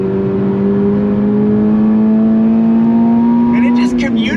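A 2024 Toyota GR86 Performance Pack engine revs steadily toward 7,500 RPM with a rising drone and harmonics, loud and close, with a brief change near the end.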